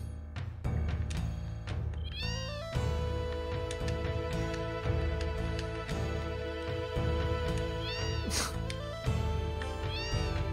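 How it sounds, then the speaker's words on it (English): Cats meowing repeatedly in a room full of cats in Final Fantasy 7 on the PS1, a dense run of overlapping game meows over a steady musical background, loud and continuous with no talk. "it's a room full of cats."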